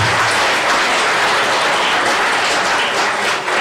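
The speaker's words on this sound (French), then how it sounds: "Allez, applaudissez-les encore." Steady, dense applause from an audience at a mayor's New Year address in Verlinghem, continuous and fairly loud across the whole stretch with no voices over it.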